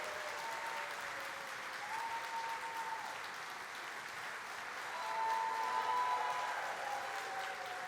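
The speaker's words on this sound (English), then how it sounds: "we need to stamp our feet and clap our hands for Monique Hayward" Keynote conference audience applauds at a steady, moderate level for several seconds, the clapping swelling slightly toward the end with a whistle or two; no distinct foot stamping stands out.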